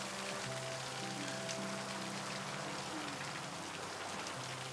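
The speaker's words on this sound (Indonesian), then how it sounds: "Di sini hujannya lebat banget." Heavy rain pours in a constant hiss over the surface, steady and enveloping, with a faint low hum underneath and no clear voices.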